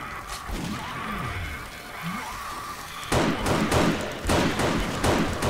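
Gunfire cracks out in the video game 7 Days to Die during a daylight zombie horde night, starting as a rumbling background and then a run of sharp, evenly spaced loud shots in the latter half.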